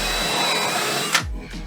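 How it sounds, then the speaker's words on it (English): A power drill whirs steadily at close range, then cuts off abruptly, leaving a brief lower rumble as it spins down. "We can drill these holes larger."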